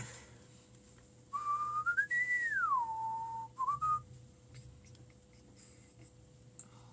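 A person whistles a high, sliding tune alone, the pitch gliding up and back down in a smooth phrase and then ending in a few short notes, close and clear against a quiet room.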